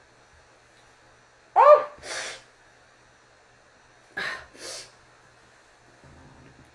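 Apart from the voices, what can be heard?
person sneezing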